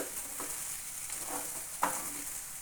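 Pepper chicken fry sizzling and frying in a pan, a steady hiss with a few soft stirring scrapes and one sharper clink near the end.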